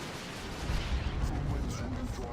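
Grenade barrage explosions in the Dawn of War 2: Retribution strategy game, a dense run of overlapping blasts and gunfire forming a steady rumbling roar, with a commentator's voice heard over it.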